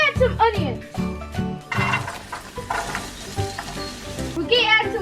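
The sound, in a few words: onions sizzling in a pan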